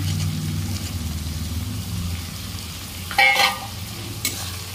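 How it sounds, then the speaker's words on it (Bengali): Chopped tomatoes drop into a pan of frying ginger-garlic paste for ghugni, giving a steady close sizzle with a short louder burst of spattering and a brief scrape midway; no talking. "এবারে আমি টমেটো কুচিটা দিয়ে দিচ্ছি।"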